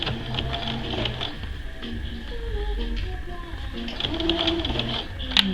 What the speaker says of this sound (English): I'm just doing a regular seam.